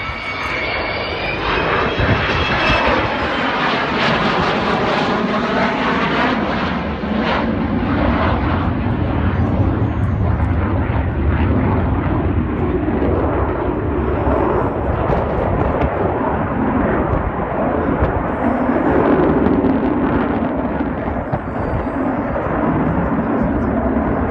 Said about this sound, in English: keeping this 55-year-old aeroplane flying